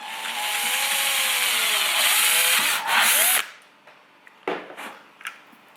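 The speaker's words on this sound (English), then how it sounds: "we're just going to drill straight through one of these holes" A power drill bores straight through the holes of a CUT Mount G4 cutaway system template, a loud whining run of about three seconds that stops abruptly, followed by a few short clicks and knocks.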